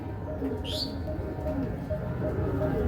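Pigeons coo softly against a steady background din, a faint tonal cooing that repeats through the stretch, with one brief sharper chirp early on.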